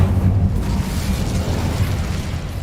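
A fiery Incendio spell bursts in the video game Hogwarts Legacy, a dense, steady rumbling roar of flame and explosive crackle filling the whole moment with no pause.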